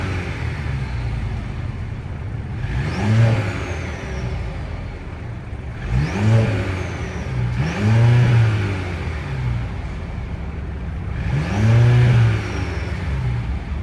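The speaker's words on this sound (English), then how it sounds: "that was the sound of the turbocharged inline 4-cylinder engine sold by Mercedes for the 2024 C-Class" A 2024 Mercedes-Benz C 300's 2-liter turbocharged inline four-cylinder revs up four times from a steady idle, each blip rising and falling sharply with a whooshing turbo note, close and loud with no talking.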